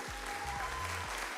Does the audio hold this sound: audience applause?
yes